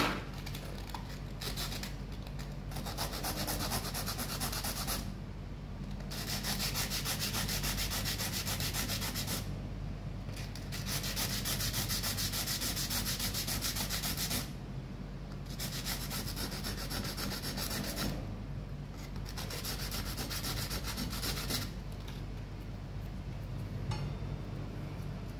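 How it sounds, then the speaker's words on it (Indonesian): Steady rough sanding strokes with coarse sandpaper rasp back and forth close by, broken by a few brief pauses between passes, with no talking. "Amplasnya pakai amplasnya yang kasar ya"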